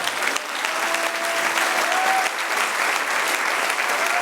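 Sustained, loud applause from a large church congregation fills the whole stretch, steady and even, with a faint tone lingering underneath.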